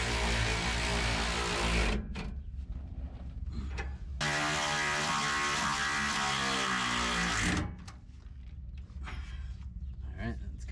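Nuts being tightened on bolts during a lift kit install on a 2020 RAM 1500, a loud, close, rapid ratcheting whir in long bursts separated by short pauses, with some talking underneath.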